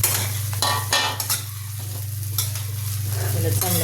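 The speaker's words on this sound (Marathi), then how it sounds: "आता कढईत तूप टाकून मी हिरवी मिरची थोडी परतून घेते।" Green chillies sautéing in ghee in a kadhai for a fasting sweet potato dish: a steady close sizzle broken by scraping stirs of a spatula against the pan, with no talk.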